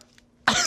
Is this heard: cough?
yes